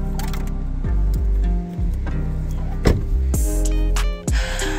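A faulty motor on a travel trailer is cranked, giving a loud, close mechanical whirr with rising and falling pitch, broken by short stops, clunks and restarts, alone without talk.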